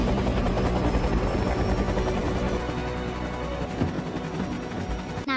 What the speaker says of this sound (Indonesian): Raja Alpha yang ternyata belum meninggal loncat dan masuk ke dalam helikopter